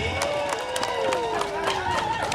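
Audience applause and murmuring crowd at a district health day event in Central Lampung, Indonesia, honouring the deputy regent, with a steady wash of clapping and a sustained tone running underneath.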